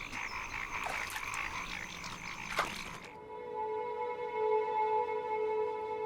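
Frogs croak in a pond in a secluded mountain region of southwest China, a steady chorus of repeated calls at moderate distance, with a busier, noisier stretch giving way to clear sustained tonal croaking.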